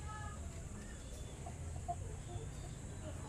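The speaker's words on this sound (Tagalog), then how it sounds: "Ganda ng mga manok, diba?" Faint, distant clucking of chickens over a low background rumble, a few soft calls scattered across a few seconds.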